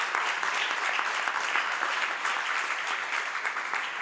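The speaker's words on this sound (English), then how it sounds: "Please give applause." Audience applauding panelists at the close of a conference discussion, a dense, even clapping from a large crowd lasting four seconds without pause.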